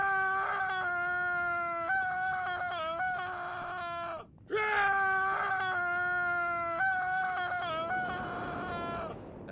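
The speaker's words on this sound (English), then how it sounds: "Now, shriek with me." Characters in the Hitman video game shriek in long, wavering, high-pitched cries, two sustained bursts broken by a brief gap near the middle, loud and close with no talking.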